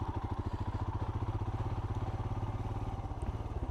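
A Royal Enfield Himalayan single-cylinder engine thumps steadily and evenly while ridden, with a moderately loud, constant pulsing beat and no talking.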